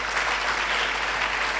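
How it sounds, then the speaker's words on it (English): Audience applause for a college principal at a 175th anniversary celebration, a steady, even round of clapping from a sizable crowd with a low hum underneath. "Please, another round of applause for him."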